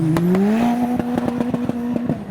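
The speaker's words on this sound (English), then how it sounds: "look at all the blue Vauxhalls all heading in together" A line of blue Vauxhall VXR cars rolls in to a car show, engines droning and rising in pitch close by, with a rapid series of sharp pops and rattles over the motor note.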